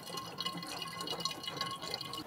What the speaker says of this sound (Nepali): पुरै पानी झरिरहेछ क्या, ड्रपिङ तप तप चुहिरहेछ माथिबाट